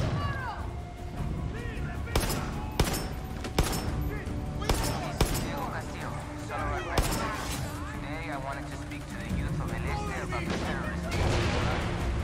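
Mortar fire in Far Cry 6 thumps as a series of sharp, repeated blasts amid chaotic combat noise, with shouting voices and other sounds overlapping the impacts.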